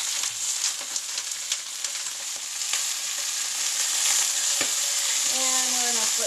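Rabbit pieces sizzle steadily in a hot pan seasoned with salt and pepper, a continuous close crackle with occasional sharp pops and a brief scrape near the end.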